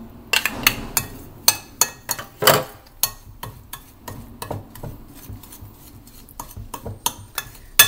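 Apple tart filling with starch, nutmeg and cinnamon being stirred in a bowl, a string of sharp utensil clicks and scrapes against the dish, fairly close and irregular, with no voices.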